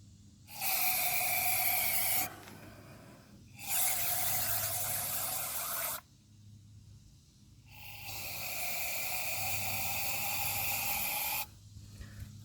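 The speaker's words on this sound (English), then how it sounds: "let's take the brake cleaner and let's see if the intake valves are" Brake cleaner is sprayed from an aerosol can into the intake valves of a Ford Ranger 2.5L engine being checked for a vacuum leak: three loud, close hissing bursts of a few seconds each, separated by short pauses.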